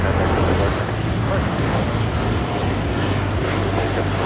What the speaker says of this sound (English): taking off to Tokyo Haneda on the 787-8 Dreamliner